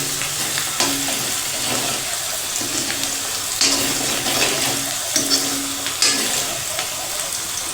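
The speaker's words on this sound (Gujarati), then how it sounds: "આપણી ડુંગળી સંતળાઈ ગઈ છે।" Onion sautéing in a pan with turmeric and salt, a dense continuous sizzle close up with periodic stirring scrapes and a faint steady hum underneath, no voices.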